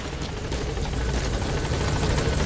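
Helicopter rotor from the Metal Gear Solid V video game, arriving at a landing zone: a steady, dense whump and roar held loud and constant throughout, with no talk over it.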